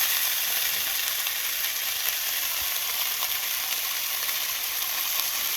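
Quail pieces stir-fry in a hot pan for a Cambodian spicy quail dish, giving a steady, dense sizzle with faint scraping, close and continuous, without talk.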